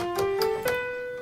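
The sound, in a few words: bass guitar playing F Lydian scale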